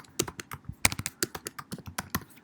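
Fast, crisp typing on a computer keyboard while entering a username in a PHP coding tutorial: a steady run of close, distinct key clicks with an uneven rhythm, heard alone with no talking.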